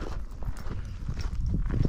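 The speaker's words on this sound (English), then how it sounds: "Horses coming, look." Horse hooves clip-clopping on a path on the South Downs, a quick run of soft, uneven hoof knocks over a low rumbling outdoor background, fairly close and without speech.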